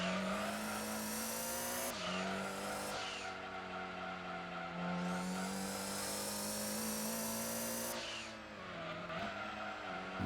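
A race car engine in Gran Turismo 2 drones loudly and continuously, its pitch rising and falling as it revs up and down, with a sharp upper whine.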